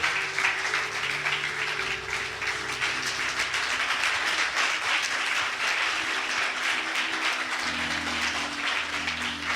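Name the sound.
congregation clapping hands in church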